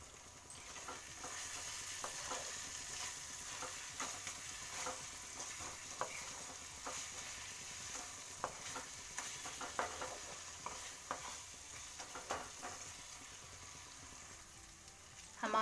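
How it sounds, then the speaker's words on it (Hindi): Tomatoes with ground chili and spices roast in a pan for aloo dum biryani, giving a steady low sizzle with soft scattered stirring clicks and scrapes throughout, fairly quiet and close, with no talk. "हम टमाटर गलने तक इसको भूंज लेंगे।"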